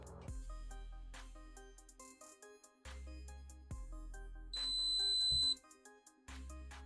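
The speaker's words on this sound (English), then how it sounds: "After the calibration, you can hear a long beep." One long, steady electronic beep from a ZOYI ZT-MD1 LCR meter after calibration sounds over a background of intermittent music-like tones, clear and fairly close.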